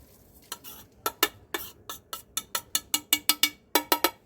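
A metal spoon clanks sharply against a pan about fifteen times in a steady rhythm as whole spices such as fenugreek are stirred together for homemade chaat masala over a low to medium flame. The strokes are close, crisp and alone.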